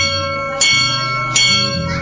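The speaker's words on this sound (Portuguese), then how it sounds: "Mais de 100 anos depois, e as badaladas ainda ecoam pelo bairro." A church bell brought from England in 1903 rings out loudly, two clear strikes with long shimmering overtones that hang and decay between them.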